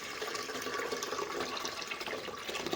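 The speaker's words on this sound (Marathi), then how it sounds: "हे बघा कुकर घेतलेला आहे इडलीचा तर इडल्या लावाय घेऊया त्यात आपल्याला पाणी टाकून द्यायचं" Water is poured steadily into an idli cooker, making a continuous splashing, filling rush at moderate volume with no breaks or talking.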